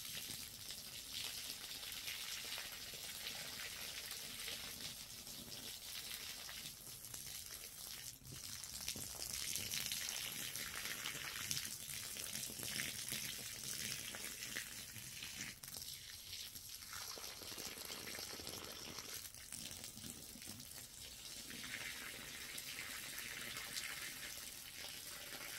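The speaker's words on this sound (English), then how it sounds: "That's all we doing, man, just watering the plants real quick." Water pours steadily while garden plants are watered in the early morning, soaking the ground. A continuous, fairly loud hiss and splash runs unbroken for the whole stretch, swelling slightly at moments, with no talking over it.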